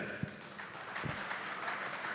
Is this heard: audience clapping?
yes